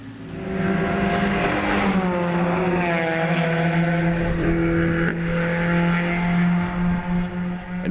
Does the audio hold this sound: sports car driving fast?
yes